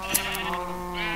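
A sheep bleats in the Minecraft video game, giving one sustained, wavering bleat that runs through the whole moment, loud and close with a couple of faint clicks at the start.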